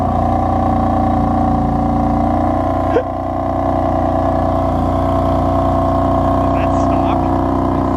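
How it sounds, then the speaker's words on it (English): A stock BMW M4 in Yas Marina Blue runs with a steady, loud engine note, holding a sustained drone with a small blip partway through, while people talk over it. "That's stock."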